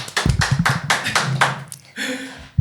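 Brief burst of studio audience applause on a psychology podcast show: a run of evenly spaced, close claps lasting under two seconds, then a voice starts talking.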